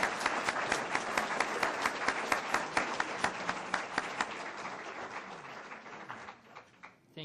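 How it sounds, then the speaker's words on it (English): An audience at a city council meeting applauds the newly sworn-in council, a full room of steady clapping that gradually thins and fades out. "Round of applause for our new council."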